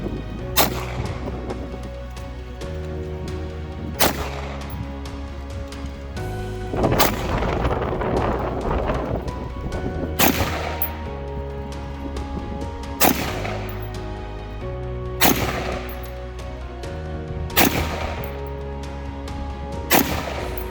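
Gunshots at an outdoor shooting range ring out as sharp, loud cracks with booming tails, about eight shots spaced a couple of seconds apart, with wind noise in between.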